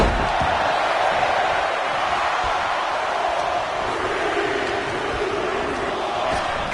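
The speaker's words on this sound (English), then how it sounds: "Listen to this crowd count the next one in." Wrestling arena crowd at a women's extreme wrestling event, a loud sustained roar of many voices that seems to chant along in unison, steady throughout with no clear individual talk.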